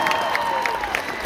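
A concert audience at a show applauds and cheers for a band member, a dense, steady wash of clapping and crowd noise with a faint sustained tone running through it.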